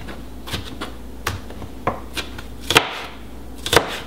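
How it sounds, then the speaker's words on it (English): A knife chops vegetables for black bean and corn salsa on a wooden board, sharp irregular taps spaced about half a second apart, close and clear, with a couple of harder double strikes near the end. "chop these up"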